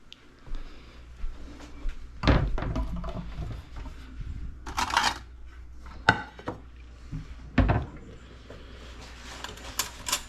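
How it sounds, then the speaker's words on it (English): A knife cutting apart a baked samsa on a board, a few scattered crunchy cuts and knocks with quiet pauses between them. "Let's cut one apart and see what it looks like."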